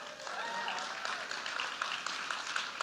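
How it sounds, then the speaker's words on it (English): Crowd at a Moms for America town hall in Pennsylvania applauds, a steady, moderately loud patter of clapping from many hands with a few murmured voices underneath. "let's give him some applause"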